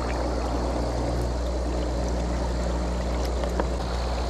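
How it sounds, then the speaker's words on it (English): An air pump pushes bubbles through a submerged old garden hose in a compost tea brewer, giving a steady, even burble and low hum throughout, without voices. "You're getting bubbles all the way down the hose."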